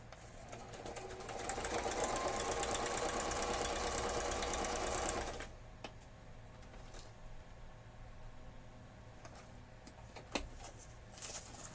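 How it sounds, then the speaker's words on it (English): Sewing machine running steadily at close range for about five seconds while stitching around fabric edges, then stopping, leaving faint room noise and a few small clicks. "Just sew around the edges."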